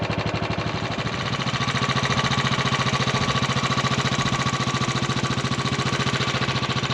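Royal Enfield motorcycle engine fires up and settles into a steady, loud, thumping single-cylinder run, heard close with a fast even pulse throughout and no talk.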